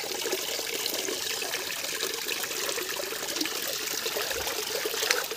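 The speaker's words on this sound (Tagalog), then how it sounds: "mayroon ng dumaloy sa kanyang tubig ngayon" Water trickles and flows steadily outdoors, likely over rocks in a stream or channel, a continuous close splashing babble with no talk.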